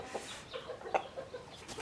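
Large chickens cluck in a wide, clean coop, several short close clucks scattered across a quiet background.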